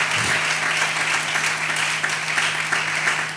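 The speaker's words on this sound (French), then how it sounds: "Acclamons le Seigneur." A church congregation applauds in a continuous, loud wash of clapping that fills the room, steady throughout with a low hum underneath and no clear voices.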